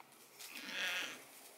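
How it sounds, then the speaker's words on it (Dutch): One sheep in a field gives a single wavering bleat that swells and fades over about a second, faint and somewhat distant, with no talk over it. "Zoveel schapen?"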